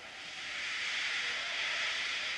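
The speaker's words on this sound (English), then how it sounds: "He just let off steam feebly." A toy steam locomotive in a model railway scene releases a soft, steady hiss of steam that swells slightly and then holds evenly, alone and fairly quiet.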